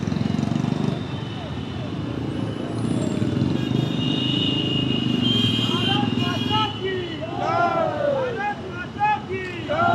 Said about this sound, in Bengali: এত বাইকের মধ্যে আমি নিজে আগে কখনো বাইক চালাইনি, মানে এরকম 50টা বাইকের মাঝখানে খুব সাবধানে চালাতে হচ্ছে।